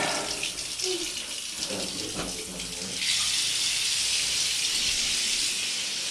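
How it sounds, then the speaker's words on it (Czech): Water runs steadily from a tap into a clogged bathtub drain, close and continuous, growing fuller and louder partway through, with faint movement noises underneath. "No, teď si do toho pustím vodu."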